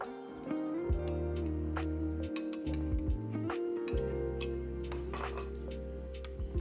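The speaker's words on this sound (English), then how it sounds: "we're going to mix that up until the miso paste dissolves completely and everything" A spoon clinks and scrapes against a bowl while miso paste, salt and spices are stirred together for vegan chicken nuggets, giving steady close clattering with repeated sharp taps and a low background hum throughout.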